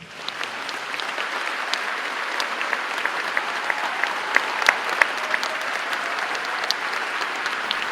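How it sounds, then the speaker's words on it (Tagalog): Members of the Philippine Congress applaud the President during the State of the Nation Address, a large hall filled with even, sustained clapping that holds steady throughout with a few sharper claps. "Isang daan at dalawamput-anim na palakpak."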